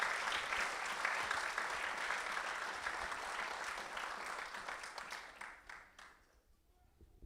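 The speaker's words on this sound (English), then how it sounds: "So I think a round of applause," Applause for the children after their musical offering and dances at a Guru Purnima gathering: a sustained round of clapping from a hall audience that gradually thins and fades out to near silence.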